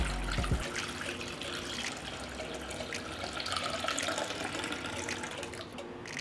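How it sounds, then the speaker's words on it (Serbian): Water pours steadily into a cooking pot lined with a cloth and holding jars for pasteurization, a continuous splashing rush that fills the whole stretch with no talk. "I zatim ću sipati vodu u šerpu do visine poklopca."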